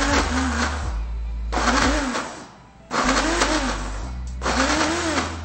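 Butter being mixed in a food processor or blender with pulses for red-fruit tart dough, four loud motor bursts of about a second each with short pauses between, close by, with no speech.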